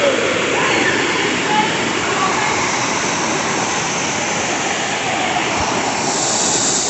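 Water pours from high above at a temple, making a dense, steady roaring rush that stays loud and unbroken throughout, with no clear voices over it.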